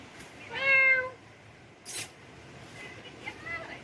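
A cat meows nearby with one clear, drawn-out cry, then a softer, shorter meow a few seconds later, over a quiet background.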